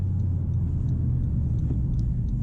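A 2021 Honda Civic Type R with a 2-liter turbocharged four-cylinder making 306 horsepower, driven in sport mode, gives a steady low engine drone with road rumble from inside the cabin.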